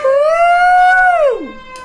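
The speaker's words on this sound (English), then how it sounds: "Hold for the siren." An emergency vehicle siren outside gives one loud, sustained wail that holds steady before sweeping sharply down in pitch, heard alone.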